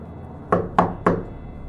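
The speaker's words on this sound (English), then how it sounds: "3 knocks were heard from the depth of the corridor" Three hollow knocks from deep down an old mansion corridor, evenly spaced about a quarter second apart, sharp and fairly loud against a faint background hum.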